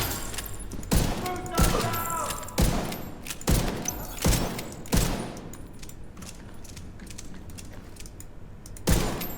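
Rifle gunfire in the video game The Division 2 rings out as a string of sharp shots roughly a second apart, then a pause filled with mechanical clicks before one last loud shot.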